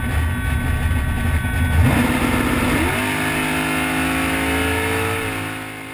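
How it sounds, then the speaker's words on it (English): A super gas drag racing car roars down the strip, its loud engine revving hard and shifting up through gears as the pitch climbs, then holding a steady high drone as the car speeds away. "I suited up to ride shotgun down the strip in a super gas car."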